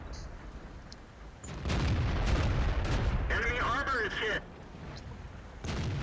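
A Panther tank's L-70 cannon fires in World of Tanks, with a heavy boom near 1.7 seconds followed by sustained battle rumble, a second shot later, and a spoken voice running through the clip.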